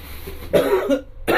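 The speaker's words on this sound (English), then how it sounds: "went to go sneeze and I coughed instead" Two harsh coughs close to the mic, the first longer and raspier, the second a short sharp burst, with quiet room tone between.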